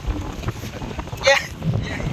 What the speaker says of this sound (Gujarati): હવા દેખો હવા તો ભાઈ